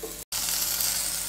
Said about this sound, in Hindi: अब पराठे के ऊपर हम 1 चम्मच जितना तेल डालेंगे और इसे गोल्डन ब्राउन होने तक सेकेंगे।